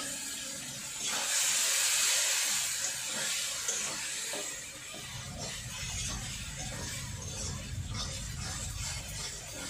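Water poured into sizzling cooked tomatoes in a pan for a village-style fish curry bursts into a loud, steamy hiss, then eases into a steady crackling sizzle with scattered pops.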